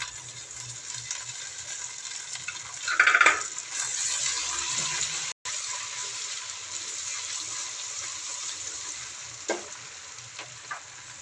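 Crushed chopped ginger goes into frying garlic and onion, a loud close sizzle that briefly surges when it lands, then a steady crackling fry with light stirring clicks.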